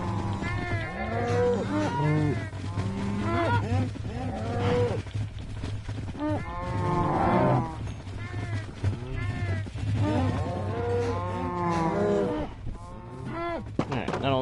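Cows mooing in Minecraft Bedrock Edition, several drawn-out bovine calls rising and falling one after another across the stretch over a steady low game hum, with talk mixed in.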